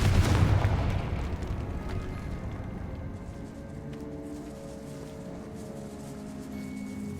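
A Confringo fire spell bursts in Hogwarts Legacy, a loud booming blast at the start whose low rumble decays over several seconds into a steady hum.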